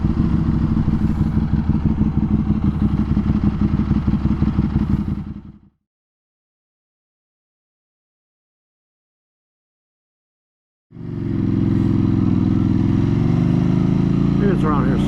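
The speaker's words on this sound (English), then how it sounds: "Listen to that feedback in that bike." Buell 1125R sport motorcycle engine running under way, a loud steady rumble with rapid pulsing that cuts out completely midway, then returns just as loud with rising revs toward the end.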